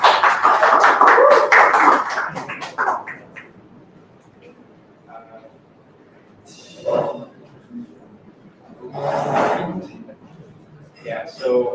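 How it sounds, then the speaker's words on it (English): Audience applause for a speaker at an AI ethics talk: a burst of clapping fades after a few seconds, followed by someone speaking at the microphone with pauses. "let us give Mr. Clark a round of applause"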